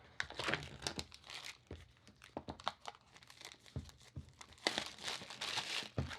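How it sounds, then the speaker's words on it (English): Plastic wrap being peeled and crinkled off a Microsoft Surface Earbuds box, a close, continuous run of irregular crackles and short tearing rips with no talking. "All right, peel the plastic off."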